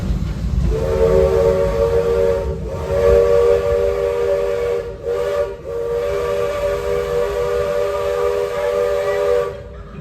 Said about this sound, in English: They're about to blow the whistle here.